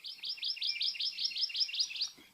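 Amakihi, a Hawaiian honeycreeper of the island's forests, gives a quick run of about a dozen bright, evenly spaced chirps, a fast rhythmic trill heard clearly and alone.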